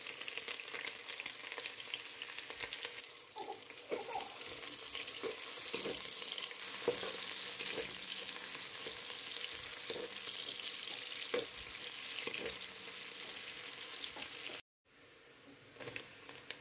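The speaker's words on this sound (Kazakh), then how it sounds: "Қазанға май құйып, пиязды 3-4 минут қуырып аламыз" Onions fry in hot oil in a cauldron, giving a steady, close sizzle with occasional stirring scrapes, with a brief dropout near the end and no talk.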